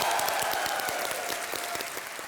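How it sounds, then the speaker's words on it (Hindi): A studio audience at a TV quiz show claps loudly to welcome BCL guests, a dense, even burst of applause with individual hand claps standing out. "एक बार जोरदार तालियां हो जाए हमारे बीसीएल के लिए।"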